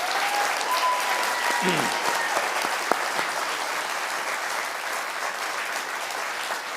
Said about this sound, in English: Let's please have a round of applause for our special guest